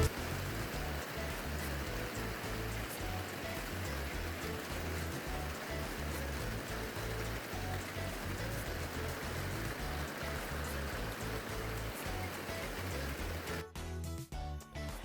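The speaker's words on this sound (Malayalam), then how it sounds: "നോക്കിയപ്പോൾ നല്ല മഴ" Heavy rain falls steadily in a dense, loud hiss for most of the time, then breaks off abruptly near the end.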